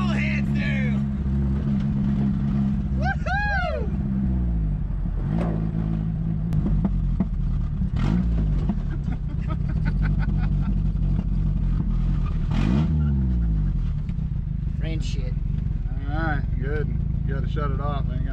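A Nissan drift truck engine revs repeatedly, loud and close, with sharp rising-and-falling sweeps over a rough idling rumble, while people talk over it.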